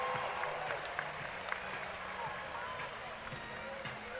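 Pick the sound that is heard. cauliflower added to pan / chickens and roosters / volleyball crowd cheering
volleyball crowd cheering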